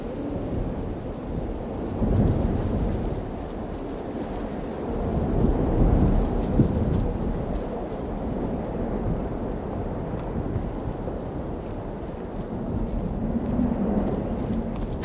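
Thunderstorm in the video game Divinity: Original Sin, with a steady low roar of rain and wind and rolling rumbles of thunder swelling around two and six seconds and again near the end, heard alone without speech.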